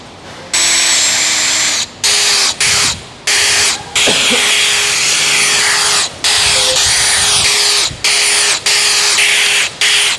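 A power drill fitted with a 7.5mm bit drills out a series of holes, its high whine starting and stopping in short repeated bursts, close and loud, with brief quiet gaps between holes.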